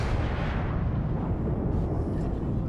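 Battleship guns firing during a World of Warships naval battle with the Iowa, heard as a dense, continuous low rumble of heavy gunfire and explosions filling the whole stretch, loud and close, with no voices.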